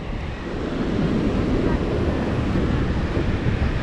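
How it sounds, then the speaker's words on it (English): Ocean waves washing onto Suncoast Beach in South Africa: a steady, loud roar of surf that swells slightly after the first second, with wind buffeting the microphone throughout. "So we'll also walk along this beach."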